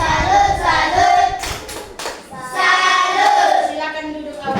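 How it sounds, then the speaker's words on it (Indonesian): Classroom students doing a chanted 'tepuk salut' clap for a group, with a few sharp hand claps in the middle amid rhythmic group chanting voices throughout. "Tepuk salut dulu untuk kelompok 1."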